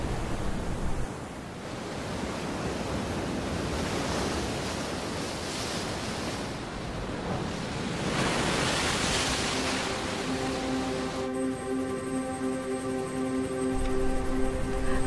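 Heavy ocean waves crash and roar continuously along the storm-battered Cape of Good Hope coast, a broad, sustained surf rumble that swells and recedes, with a faint tonal hum entering near the end.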